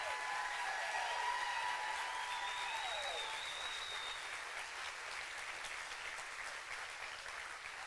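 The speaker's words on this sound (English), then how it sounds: "Big round of applause, everybody." An audience applauds a sixth-grade steel band at a school spring concert, with steady, fairly faint clapping that holds through the whole stretch and a few high ringing tones early on.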